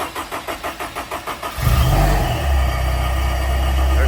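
A Honda S2000 engine rebuilt on a new OEM short block, fresh conventional oil, cranks with about eight even starter pulses, then catches and settles into a loud, steady idle close by.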